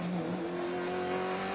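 Race car engine heard onboard during a lap at Watkins Glen, a steady loud droning roar with a clear rising pitch as the car accelerates, close and without talk.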